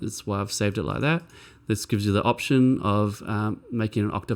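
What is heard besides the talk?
No everyday noise stands out behind the speech.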